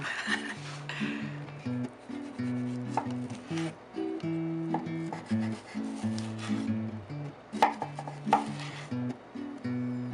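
Tomatoes are chopped on a cutting board for vegan pizza sauce, a series of close knife thuds and scrapes over a background of soft tonal music.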